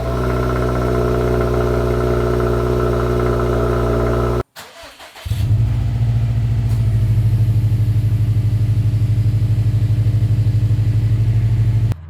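A 2015+ Subaru STI fitted with a Remark axleback muffler idles on a cold start with a steady, loud low drone. The drone breaks off briefly near the middle, then returns and settles into an even idle.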